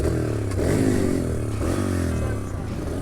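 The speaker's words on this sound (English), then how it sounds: "It's like the clutch is completely slipping." A cheap dirt bike engine runs with a slipping clutch, its steady mid-range drone rising and falling a little with the revs, loud and close throughout with no clear talk.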